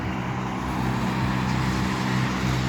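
Steady traffic noise with cars passing on a roadway, a continuous low rumble at moderate level with no voices.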